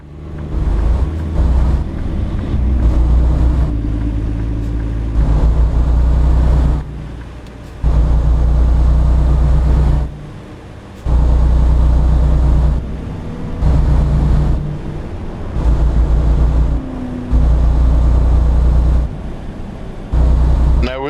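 In American Truck Simulator, a heavy truck passes on the left as a loud, steady engine and road rumble that swells and drops in long stretches, with a voice talking over it at times.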